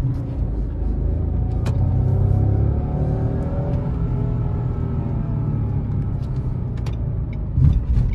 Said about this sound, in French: on va essayer de faire un démarrage normal au feu, traditionnel comme n'importe qui le ferait